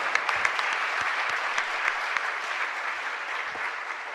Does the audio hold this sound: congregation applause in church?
yes